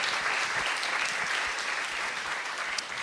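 Audience applauding at a civic town event in Bar-le-Duc, a steady dense wash of clapping from many hands that holds evenly for about three seconds with no voices on top.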